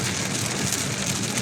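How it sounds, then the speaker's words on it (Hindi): Steady rain pours down outdoors, a dense, close hiss of drops drumming on surfaces that fills the whole moment without a break or any voices. "आज पानी में बारिश आ रही है भाई"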